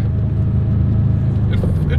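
A Subaru GC8 WRX engine drones steadily and loudly while pulling hard in first gear at just under one bar of boost, heard from inside the car.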